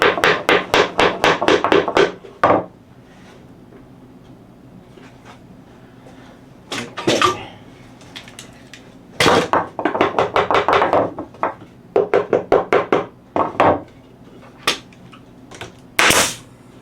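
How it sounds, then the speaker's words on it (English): A small hammer taps wood while a little birdhouse flower planter is assembled, coming in quick bursts of sharp, close knocks with short pauses between the groups. "And my little hammer."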